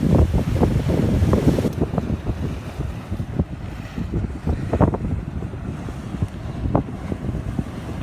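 Atlantic Ocean at Stuart Rocks in Stuart, Florida, where waves wash onto the rocky shore at evening in irregular surges beneath constant gusty wind buffeting the microphone, with no speech.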